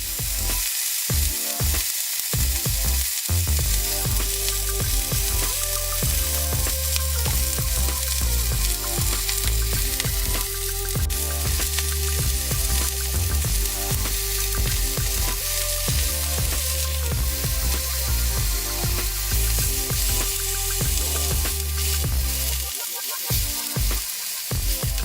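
A steak frying in a pan gives a loud, steady, dense sizzle that runs without a break for the whole stretch, close up and with no voices over it.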